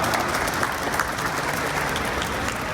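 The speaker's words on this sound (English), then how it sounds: "A round of applause to them and the volunteers as well that have come." Dense, steady applause from a large audience at a 100th birthday memories event in Brampton, continuous clapping throughout with no pauses.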